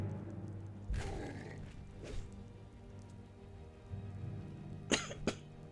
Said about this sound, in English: Just slight annoying cough.